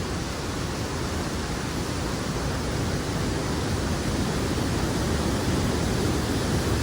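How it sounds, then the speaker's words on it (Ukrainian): Steady, broad rushing water of a Carpathian mountain river roars without pause, close by, loud and constant throughout. "Як біжить ось так вода"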